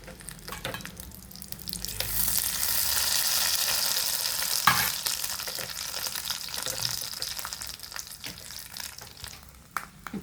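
Mustard seeds and green chilli frying in a little coconut oil, a steady close sizzle with crackling pops and occasional stirring scrapes, swelling in the middle and easing toward the end, no voices.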